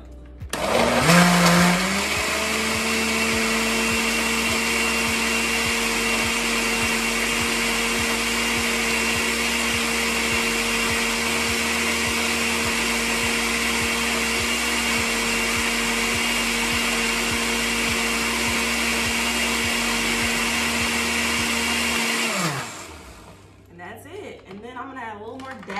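A countertop blender runs steadily for about twenty seconds, blending a vegan smoothie with a loud, constant whirring drone that starts abruptly and then winds down, followed by faint quiet afterward.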